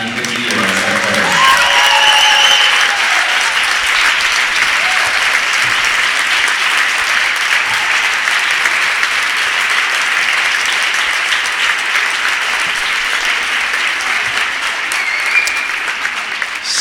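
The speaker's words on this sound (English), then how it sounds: "Standing ovation here from the home fans for the veteran coach Clayton Morrison" Home fans give a standing ovation to a veteran coach marking his 25th year at a women's basketball game, with loud sustained applause and crowd noise filling the gym throughout.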